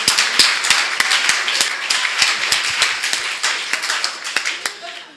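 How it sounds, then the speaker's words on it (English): A room of people applauding after a speaker's anecdote: dense, steady clapping from many hands, near and loud, holding across the whole stretch with sharp individual claps standing out. "Oh, round of applause for that one, please"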